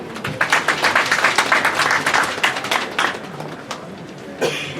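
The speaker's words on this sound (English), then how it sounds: "a round of applause to them" Applause for the embassy staff at a Nigerian embassy e-passport commissioning ceremony in Rome: a room of people claps steadily and loudly for a few seconds, then the clapping thins out and fades.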